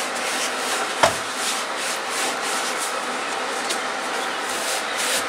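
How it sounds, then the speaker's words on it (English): Dust from an electric sander being wiped off a piece of scrap wood before staining, a steady soft rubbing and brushing that continues without a break, with one sharp tap near the start. "So we're wiping the dust from the sander off here, so it doesn't interfere with the stain when it's applied."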